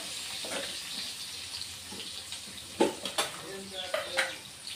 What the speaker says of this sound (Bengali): এবার আলুটাকে অল্প বন্ধুরা ভেজে নেব।